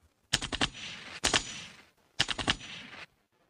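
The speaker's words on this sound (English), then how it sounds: "You also have the gunshot." Gunshot sound effect played from a pre-programmed button on a Maono Caster audio mixer, three bursts of rapid automatic gunfire with sharp cracks and echoing tails, fairly loud with no talking over them.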